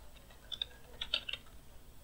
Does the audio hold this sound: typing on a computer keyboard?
yes